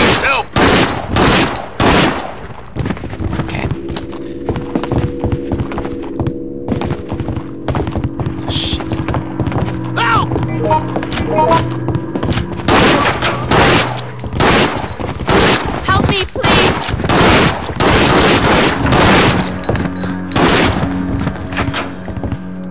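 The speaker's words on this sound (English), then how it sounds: "Do some shooting." Bursts of gunfire in the survival horror game Resident Evil Outbreak, a string of sharp, loud shots and quick volleys spread over about twenty seconds, mixed with clanks and thuds, plus a steady hum and scattered game noise.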